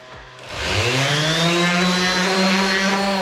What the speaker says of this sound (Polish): robimy otwory, nawiercamy po to, żeby można było je zaślepić